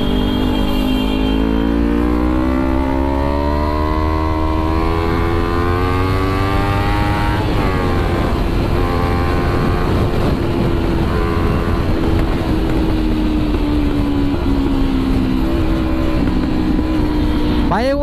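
A Kawasaki Ninja 300 motorcycle rides fast, its engine loud and close with rising revs that shift through gears, and wind roar beneath.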